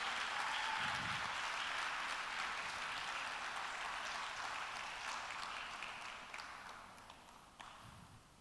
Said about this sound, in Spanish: si va a aplaudir, apláudale fuerte al Rey de Reyes y Señor de Señores